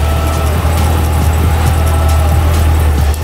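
A Cadillac CTS-V's supercharged LSA V8 engine idles loud and close with a steady, deep rumble throughout.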